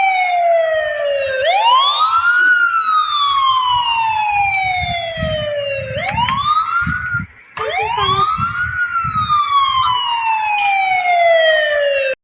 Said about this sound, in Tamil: ஆம்புலன்ஸ் வந்துருச்சு